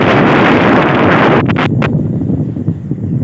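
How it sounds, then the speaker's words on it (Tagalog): Strong wind buffets the microphone on the summit of Mt Lubog, a steady loud rush with a few brief gust peaks and no talk. "Napakaganda ng hangin."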